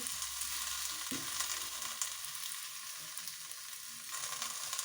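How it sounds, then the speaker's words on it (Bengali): Fish curry sizzles steadily in hot oil in a home kitchen, a dense, even crackle that runs throughout, with a brief clatter of stirring near the start. "মাছ তরকারিটা আমি এখন বসাচ্ছি"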